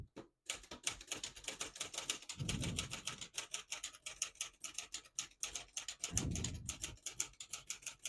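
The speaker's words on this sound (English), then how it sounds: "It prints the bottom portion of the ribbon, which is red." A 1967 Olivetti Lettera 32 manual portable typewriter clacks in a quick, steady run of keystrokes, with two dull thumps of the carriage mechanism, close and clear with no voices.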